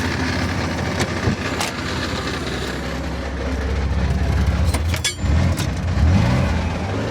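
A KrAZ crane truck's engine runs after being tow-started by a mini tractor: a steady, loud, close diesel rumble with a slight surge near the end and no talking.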